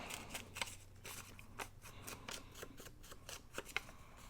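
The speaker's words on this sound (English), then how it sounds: "I'm just taking my scissors. I'm going to rough it up" Scissors scrape and snip repeatedly along the edge of a magazine page, roughing up the paper in quick, irregular close strokes, quiet and alone.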